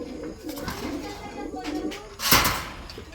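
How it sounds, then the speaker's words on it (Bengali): Racer pigeons sitting on eggs coo softly in a loft, low rolling calls running under faint background noise, with a sharper louder burst near the end. "এই যে দেখেন বন্ধুরা, ডিমে বসে তা দিচ্ছে মাশাআল্লাহ, বিগ সাইজের মধ্যে আমরা একজন রেসার কবুতর দেখতে পাচ্ছি"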